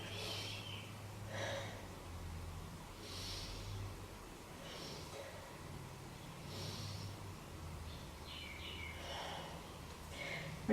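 Slow, deep breaths during a beginner yoga pose for releasing tight hips, soft inhales and exhales repeating every couple of seconds, faint and close over a quiet room hum.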